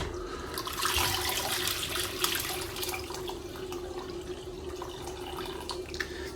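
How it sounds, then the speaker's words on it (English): Chicken stock pours steadily into a bowl in a kitchen, a continuous close liquid splash and trickle with a faint hum underneath, no voices. "And then pour in the stock into the bowl."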